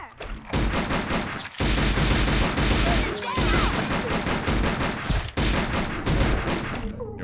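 Dense, continuous gunfire from Silent Hill: The Arcade as a lock is shot: loud rapid volleys of shots that run almost nonstop, with a couple of brief pauses, and faint talk beneath.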